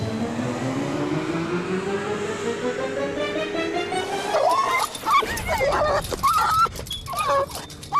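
A dog whimpers and yips in short, high, whining bursts over the latter half, entering after a rising low engine-like drone, with some faint chatter mixed in.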